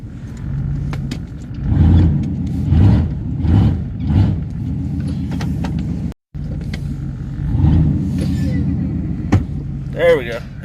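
A 1992 Chevy 4x4 truck engine idling close by with a steady low rumble and rhythmic surges while it is shifted into reverse, with a brief dropout midway and a voice speaking near the end.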